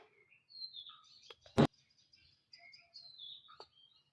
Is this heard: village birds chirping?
yes